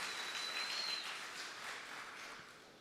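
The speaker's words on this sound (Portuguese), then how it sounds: "Aplaude forte a vitória de Jesus." A church congregation claps loudly together, a dense, even wash of applause heard from some distance, fading slightly over a few seconds with no speech.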